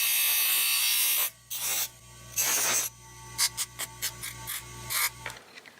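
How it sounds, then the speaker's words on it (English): Small piece of sheet metal being ground off while making a replacement battery cover, a long steady grinding burst followed by several shorter bursts and brief touches, close and loud, with no talking. "And this little bit here I'll just grind off."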